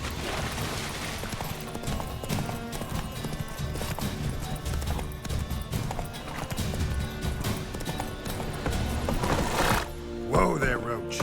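Roach, the horse in The Witcher 3, gallops with steady clip-clop hoofbeats under game music and speech, then gives a sharp whinny near the end.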